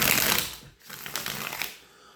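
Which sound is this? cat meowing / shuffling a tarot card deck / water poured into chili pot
shuffling a tarot card deck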